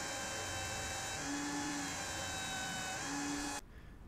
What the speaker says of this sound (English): I've now improvised a sanding table using my trusty belt sander